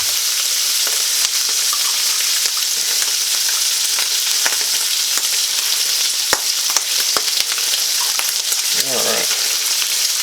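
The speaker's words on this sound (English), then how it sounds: "And just stir up the sausage a little bit." Smoked sausage frying in a pan for pineapple rice, a steady dense sizzle running the whole time with scattered clicks and scrapes as it is stirred, close and fairly loud.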